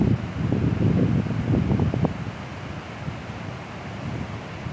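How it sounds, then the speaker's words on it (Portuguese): Strong wind buffets the microphone on a seaside bike ride along the Maceió waterfront toward Ponta Verde. A loud, steady rushing roar peaks in the first two seconds, then settles into a lower continuous blustery hiss, with no talking. "Muito vento."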